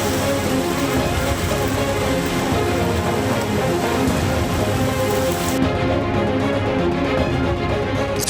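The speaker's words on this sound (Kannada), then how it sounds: "ಚಿಕ್ಕಮಗಳೂರಿನಲ್ಲಿ ಗುಡುಗು ಸಹಿತ ಭಾರಿ ಮಳೆಯಾಗಿದ್ದು" Heavy rain pours down steadily in Chikkamagaluru, Karnataka, a dense, loud, continuous hiss of drops on surfaces with no pauses; no thunder stands out distinctly.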